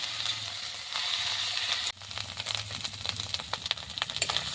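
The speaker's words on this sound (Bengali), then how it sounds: "এখানে আদা রসুনটা ভালো করে ভেজে নেব" Ginger, garlic and onion paste frying in a pan for an egg curry, a steady close sizzle with a brief drop near the two-second mark, then scraping and clicking stir sounds returning over continuous frying.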